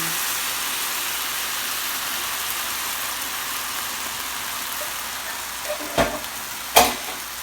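Tilapia sizzles in a frying pan with coconut milk, a steady hissing bubble throughout, broken near the end by two brief clacks of a utensil against the pan.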